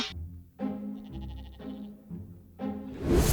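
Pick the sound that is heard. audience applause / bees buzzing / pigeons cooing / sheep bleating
sheep bleating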